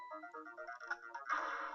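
Phone ringing in the Ghost Trick: Phantom Detective video game, a bright electronic ring tone repeating in short bursts that swell louder toward the end of the brief moment, with no voices.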